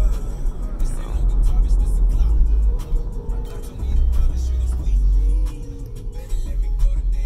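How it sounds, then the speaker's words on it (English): A Tesla pulls away by itself at a green traffic light with traffic-light control engaged, a steady low engine-less drive rumble building inside the cabin as the car accelerates, with road noise swelling and easing. "I'm not pressing anything here, and it keeps going."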